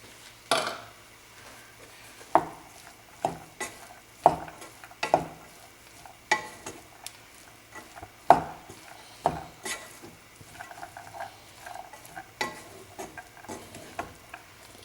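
Grated coconut stirred into payaru thoran in a pan: repeated sharp scraping strokes at an uneven rhythm, close and clear over a faint sizzle, with no voices.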